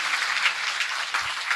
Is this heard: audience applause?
yes